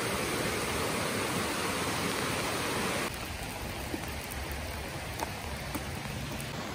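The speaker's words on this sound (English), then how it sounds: "It's raining, everyone, in beautiful Hawaii. And look at this. You can hear the noise." Steady rain in Hawaii hisses down nearby, a continuous wash of drops that drops slightly in loudness partway through, with occasional single drips standing out.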